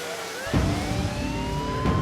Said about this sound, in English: An ambulance rushes to the scene.